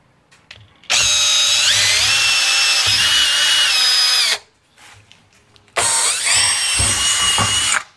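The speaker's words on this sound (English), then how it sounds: "Drill straight down." A power drill whines loudly through wood in two long bursts, separated by a short pause, close up, while building a DIY kayak crate.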